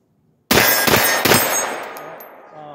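A single loud pistol shot fired from a handgun fitted with a Trojan condom stock brace at a shooting range, sharp close crack followed by a ringing metallic decay, no voices.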